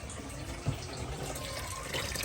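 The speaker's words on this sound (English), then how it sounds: "Okay, I'm just gonna fill it up with water." A garden hose runs water into a seven-day livestock pet feeder and waterer, giving a steady, soft rushing and trickling of filling liquid at close range with no talk.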